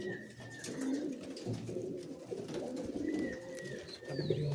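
Giribaz pigeons coo in low, throaty rolls at a breeder's house where pairs are being matched, several birds murmuring close by, with thin chirps and distant whistles in the background.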